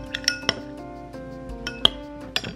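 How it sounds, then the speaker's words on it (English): Spoon stirring a strawberry brown sugar syrup drink in a glass, with a few sharp clinks against the side at irregular intervals over a low steady background hum. "I'm gonna give this a stir."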